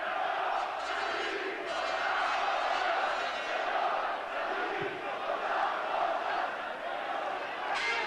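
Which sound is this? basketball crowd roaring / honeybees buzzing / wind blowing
basketball crowd roaring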